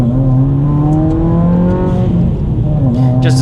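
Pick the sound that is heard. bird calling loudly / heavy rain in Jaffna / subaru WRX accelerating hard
subaru WRX accelerating hard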